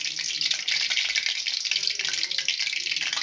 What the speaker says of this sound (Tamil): நான் கொஞ்சம் தண்ணியோட போட்டேன், அதான் சொல்ல சொல்லி வெடிக்குது